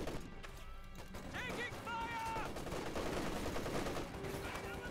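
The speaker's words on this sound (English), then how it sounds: "Rail squad suppressed here by the Fulton MG-34." MG-34 machine gun fire in the Company of Heroes 2 real-time strategy game: a continuous dense wash of battle noise with bursts of gunfire and impacts, some tonal effects, and a voice talking over it.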